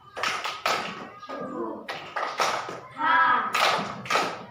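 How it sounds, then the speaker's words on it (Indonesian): A classroom of students does a rhythmic clapping chant, tepuk semangat, with bursts of hand claps alternating with group voices calling out in time. "mari kita mulai tepuk semangat"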